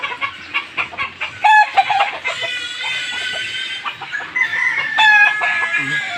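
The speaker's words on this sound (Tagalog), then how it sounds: "Katapang ng mga manok sa amin dito." Hens cluck busily nearby while a rooster crows loudly twice, the calls overlapping in a noisy farmyard chorus.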